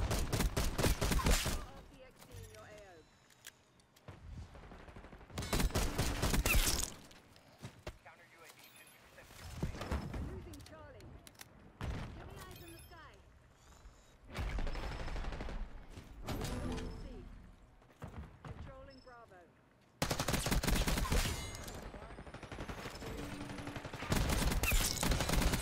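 Several loud bursts of gunfire in Black Ops 6 multiplayer, sharp and close, separated by quieter stretches in which a player talks.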